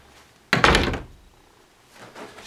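A door in a Gatlinburg rental cabin swings shut with one solid, close thunk, followed by a faint softer shuffle and no talking.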